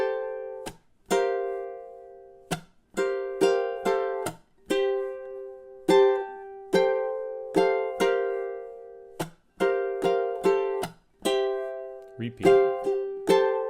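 Ukulele strums a song's groove, measures 23 to 26, in crisp, evenly spaced chords with short pauses between bars, played alone and up close.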